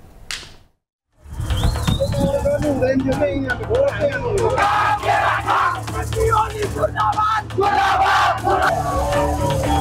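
Protest crowd clashing with riot police while marching toward the parliament building in Kathmandu, Nepal, with objects being thrown: after a brief silence, loud yelling and shouting voices surge up and stay dense, with sharp cries and clatter throughout.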